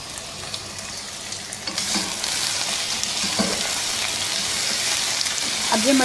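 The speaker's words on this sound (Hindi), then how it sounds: "अब ये मटन को इसमें 4-5 मिनट अच्छी तरह से भून लेंगे।" Mutton pieces sizzle and fry with onions in a pan for a mutton stew, a steady dense hiss with occasional stirring scrapes, loud and close, rising slightly toward the end.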